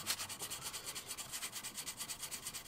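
A steel blade is hand sanded with abrasive grit in quick, even back-and-forth strokes, about eight per second, producing a soft, faint, steady rasping rhythm.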